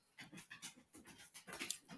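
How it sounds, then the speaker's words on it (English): A dog named in a household barks and pants in a repeated series of short bursts, close to the microphone, with no talking. "That's why he barking."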